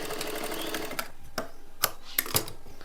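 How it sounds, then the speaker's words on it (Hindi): A sewing machine stitches a strip of blouse fabric, a steady rapid mechanical run with a few louder clicks, close and alone with no talk. "इसके ऊपर हम सिलाई लगा लेंगे। इसको जोड़ लेंगे आपस में"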